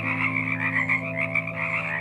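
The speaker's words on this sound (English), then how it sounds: "We have these little tree frogs." Small tree frogs croaking in the mountains around Mount Saint Helens, a dense steady chorus of overlapping rhythmic croaks, close and fairly loud, with no voices.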